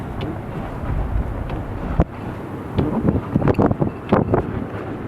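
Strong wind from the Winter Storm Nemo blizzard roars and buffets the microphone near a parking lot, a steady rumbling rush with gusty thumps and no voices.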